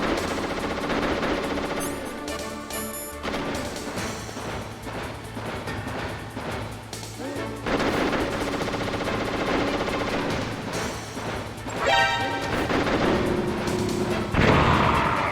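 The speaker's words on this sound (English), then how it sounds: "got him with a grenade, I guess" A grenade blast in the Metal Gear Solid video game erupts amid loud, continuous rattling gunfire and booming impacts, dense and sustained throughout, with heavy bursts recurring near the end.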